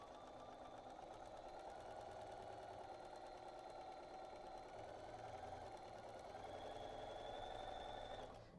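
A sewing machine runs continuously, stitching chained fabric pieces under the presser foot, with a steady, quiet mechanical whir and rapid needle chatter throughout.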